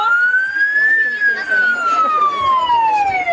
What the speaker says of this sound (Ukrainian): чути сирену.